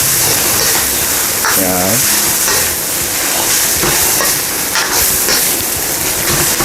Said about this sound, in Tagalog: Stir lang po natin siya.